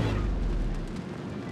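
A ship blowing up in World of Warships naval combat, a loud rumbling blast that starts heavy and decays slowly into a low roar over about a second and a half, with no talk.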